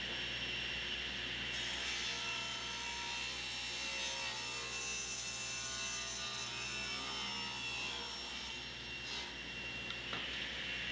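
A table saw rips 2x4 boards to width for shed nailers, a loud continuous cutting whine that holds steady for several seconds and then eases off near the end.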